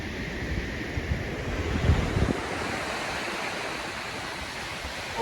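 Ocean waves wash steadily along Enderts Beach in Northern California, a continuous rolling surf with a slightly louder swell near the middle, heard from a clifftop overlook with light wind and no voices.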